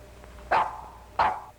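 A performing dog gives two sharp, loud barks about half a second apart, close by, with nothing else around them.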